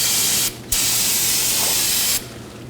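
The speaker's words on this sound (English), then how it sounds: "Now I'm going to take some brake cleaner and clean the whole area before I reinstall my parts." Brake cleaner hisses from an aerosol can onto the brake parts of a 2013-2019 Nissan Sentra during wheel cylinder replacement, in two steady bursts with a brief pause between them, loud and close.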